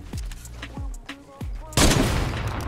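A heavy sniper rifle in a video game fires three booming shots about two-thirds of a second apart, each with a ringing low tail. A loud, sustained burst of crashing noise follows.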